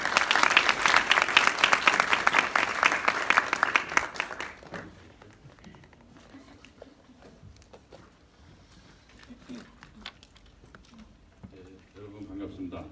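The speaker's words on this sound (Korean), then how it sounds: "박수로 환영해 주십시오" Audience applause welcoming a lecturer to a university finance lecture: dense, loud clapping from a crowd that fills the first four seconds, then stops abruptly, leaving quiet room noise and faint movement.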